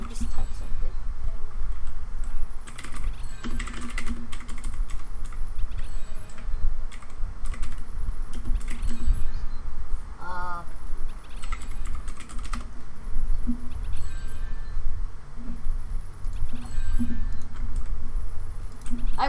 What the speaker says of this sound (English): let me just type something